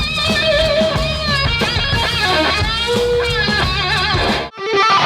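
Electric guitar in standard tuning plays the first main solo from a song, a loud, continuous run of bending, wailing lead lines with a brief break near the end.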